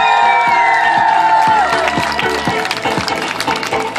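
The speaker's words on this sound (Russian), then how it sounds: "аплодисменты 10-му отряду!" A summer camp audience applauds and cheers at a camp flashmob, the clapping and shouts mixed with loud music and a steady thumping beat throughout.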